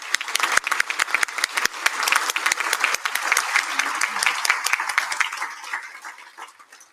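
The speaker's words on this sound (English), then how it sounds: "would you please join me in a round of applause to thank them?" Audience applause at a Matador Resources Company annual shareholder meeting, a dense, steady wash of many hands clapping that holds at fairly even loudness for the full seven seconds, close and sustained.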